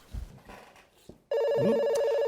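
A telephone rings with a steady electronic bell tone, starting abruptly after a few quiet, indistinct sounds and continuing loud and unbroken to the end.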